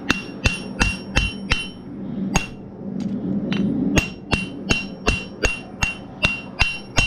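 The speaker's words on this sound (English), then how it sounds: "I'm just hammering on the edges all the way around" Sharp metallic hammer strikes ring out in quick, regular succession, pausing briefly before resuming a steady tapping rhythm close by.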